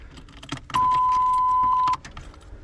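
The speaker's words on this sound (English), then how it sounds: "Fuel pump kicks on." A 1987 Camaro IROC-Z fuel pump kicks on with a steady, even whir lasting about a second, heard close up and clearly, with faint rattling and clicks from inside the car before and after.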